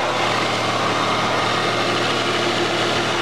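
A car fitted with a TRD supercharger and a worn-looking belt runs steadily at a car meet in Rocky Hill, CT, its engine a loud, dense, unbroken roar close by.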